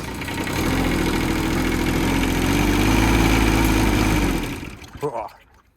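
A small engine on a pedestrian roller rises to a steady, loud rev with a rough low drone. It holds for several seconds, then drops away abruptly, leaving a few brief sputters and mechanical noises.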